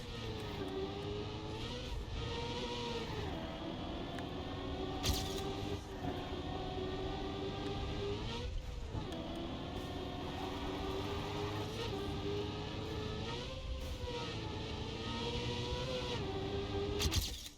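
A car in the racing game Trackmania drives with a steady, whining engine tone that rises and falls through gear and speed changes, loud and continuous with brief bumps and clunks along the track.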